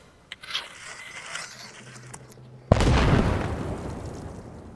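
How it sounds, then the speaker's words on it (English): An explosive charge detonates in Arma Reforger with a sudden sharp blast followed by a loud rumbling roar that slowly fades, after a few seconds of quieter movement and handling sounds. "you did see how big the explosion was compared to the demolition"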